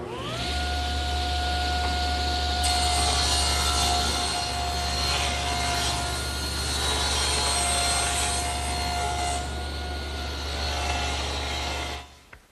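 A table saw rips along the edge of wood stock, its motor whining steadily while the blade bites in with a loud rising roar and rough grinding, then spins down at the end with no talk.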